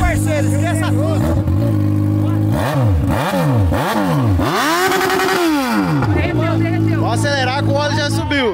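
A Yamaha XJ6 motorcycle engine runs loudly up close, rising and falling through repeated throttle revs with a steady idle between, while people talk over it.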